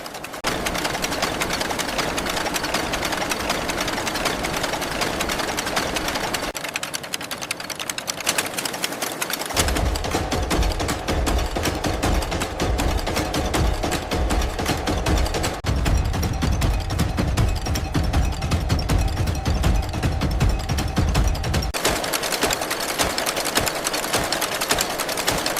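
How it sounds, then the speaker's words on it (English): Industrial spinning frames in a factory twist thin coconut husk fibre threads into continuous spools of yarn, giving a loud, steady, dense machine clatter and whir that runs throughout, with shifts in low rumble as the machinery changes. "The numerous thin threads are twisted together on industrial spinning frames, forming continuous spools of yarn"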